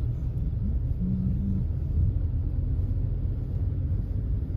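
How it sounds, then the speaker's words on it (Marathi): A long line of cars is jammed on a road near Palghar, giving a steady, close, low rumble of idling engines with a faint hum rising briefly, and no talking. "गाड्या सुद्धा जाम आहेत. लाईन बघा गाड्यांची, खूप जाम आहे"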